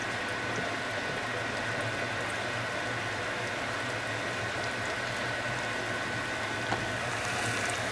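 A potato crisp patty frying in hot oil, giving a steady close fizzing bubble and sizzle that holds level throughout with no voices.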